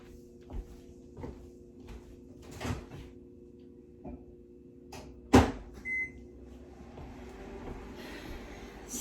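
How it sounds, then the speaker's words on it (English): A microwave oven warms water for a raspberry poke cake, a low steady hum under scattered kitchen knocks and a sharp door clunk midway, followed by a brief beep. "I'm going to stick it in the microwave for just a minute."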